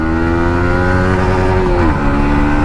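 KTM Duke 250 motorcycle accelerating hard in second gear, engine whine rising steadily and loud close to the rider, with a brief dip near the end.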